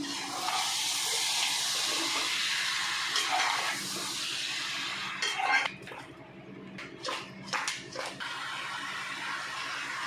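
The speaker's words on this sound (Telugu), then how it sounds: "ఇప్పుడు దీంట్లో వేసుకుందామండి నాటుకోడి ఇప్పుడు కలుపుకుందామండి దీన్ని" Country chicken tipped into a hot pan and mixed, giving a loud steady hiss and sizzle with metal pan clatter, then easing into quieter scrapes and a few sharp spoon knocks.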